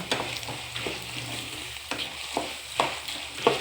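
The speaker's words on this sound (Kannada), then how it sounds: "ಕಡಲೆಬೇಳೆ ಆ್ಯಂಡ್ ಉದ್ದಿನಬೇಳೆ ಇದನ್ನು ಇಷ್ಟು ಹಾಕಿ ಫುಲ್ಲು ಡೀಪ್ ಫ್ರೈ ಮಾಡೋಣ" Chana dal and urad dal deep frying in hot oil, a steady faint sizzle broken by intermittent scraping stirs, with no voices.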